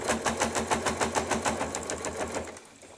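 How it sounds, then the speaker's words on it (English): A sewing machine stitches through many layers of fabric with a loud, rapid, even mechanical chatter close by, then slows and stops near the end. "you can hear it making all the noise. it's because it's going through so many layers."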